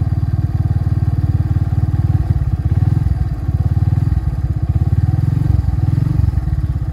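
A motorcycle labours up a steep hillside road near a mountain village. Its engine thumps loudly and close with a rapid, pulsing beat that surges and eases as the throttle changes.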